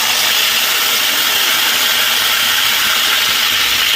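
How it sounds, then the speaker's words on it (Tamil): Tomato and onion paste hits hot oil in a pan, giving a loud, steady, close hiss and sizzle that holds unbroken throughout with no voices. "தேனளவு ஆயில் ஊற்றிக்கலாம் நம்ம வந்து அரைச்சி வச்சிருக்கிற பேஸ்ட்டை வந்து தக்காளி வெங்காயத்தை வந்து சேர்த்துடலாம்"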